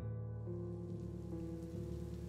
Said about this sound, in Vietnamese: bỗng có một cơn mưa trút xuống